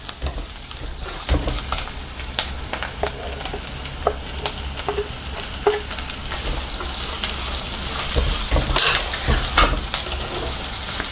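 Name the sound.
sautéing onions and tomatoes with rock salt in a pan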